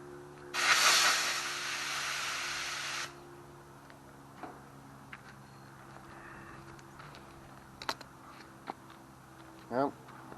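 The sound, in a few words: air compressor blowing air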